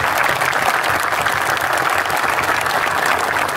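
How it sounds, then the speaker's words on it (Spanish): Loud, continuous applause from an audience at a horse auction for the Verdún Salazar family, dense clapping from many people holding steady throughout without letup. "un fuerte aplauso para la familia Verdún Salazar"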